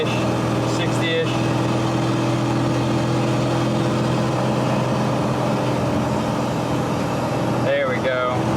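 Steady, loud drone of a 1994 Dodge Ram 3500 12-valve diesel truck with a 47RH transmission cruising at 60 mph just under 2,500 RPM, a constant low engine and road rumble filling the whole stretch, with brief faint interruptions.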